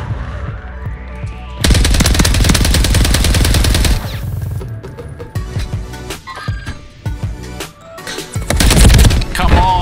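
LMG machine gun fire in Call of Duty, loud sustained bursts of rapid automatic shots, pausing briefly between volleys, with other gunfire and game effects mixed in.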